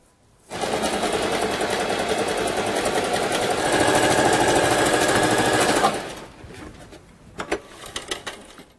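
A sewing machine stitches a hem through two layers of skirt fabric, a loud, close, continuous motor whir with rapid needle chatter for about five seconds, then a few clicks and handling noises.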